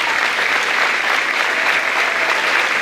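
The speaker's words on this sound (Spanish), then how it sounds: "el fuerte aplauso de todos ustedes para Olivia" An audience at a local government women's tea event applauds Olivia for the food she prepared, with loud, dense clapping that holds steady and close throughout.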